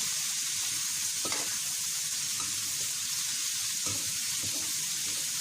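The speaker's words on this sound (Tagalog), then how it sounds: "isasabay na natin yung ating pork na kiniriski" Pork and vegetables sizzle steadily in a pan while pancit bihon is cooked, a constant loud hiss with a few soft stirring knocks and scrapes, and no voices.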